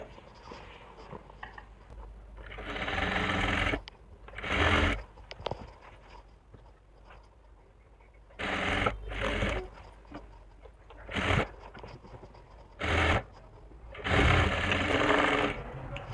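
A sewing machine stitches around the seat seam of palazzo pants in bursts of loud, close whirring, separated by quieter pauses with faint handling noises.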